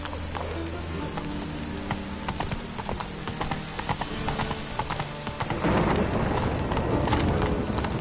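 In the video game Witcher 3, horse hooves clip-clop in a steady running rhythm, fairly close. Partway through, a louder wash of hissing, rain-like noise joins in.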